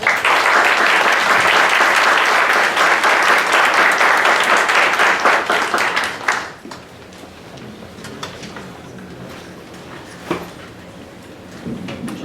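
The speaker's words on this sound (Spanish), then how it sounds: "tenemos un aplauso de bienvenida a los ponentes de esta conferencia" A conference audience gives the speakers a welcome round of applause, loud and dense for about six seconds, then it fades to scattered claps and room noise with a few soft knocks.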